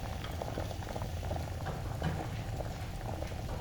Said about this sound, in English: Dough lumps fall into the boiling soup naturally.